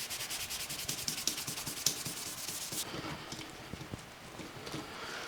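Rubbing automotive compound by hand onto a vintage VS6 guitar neck gives a steady, close scratchy rubbing of repeated short strokes, brighter at first and then softer and duller.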